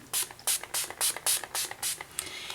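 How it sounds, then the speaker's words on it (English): A quick series of about eight short, hissing mist sprays of Mario Badescu facial setting spray pumped in a steady rhythm, close and crisp, followed by a softer hiss. "I go ahead and spray this just to set everything in."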